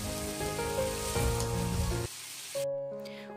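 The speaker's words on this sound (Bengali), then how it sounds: "পেঁয়াজ বাটাটিকেও কয়েক সেকেন্ডের জন্য নেড়ে চেড়ে নিয়ে ভেজে নিচ্ছি" Onion paste is fried and stirred in a pan over a low gas flame, giving a steady crackling sizzle under sustained tonal hum that cuts out briefly and returns more faintly near the end.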